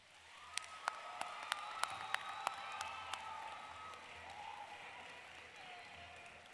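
Graduation audience at a university spring commencement clapping for families and friends, a crowd's soft wash of applause with several sharp, evenly spaced nearby claps standing out early, then fading to a low murmur.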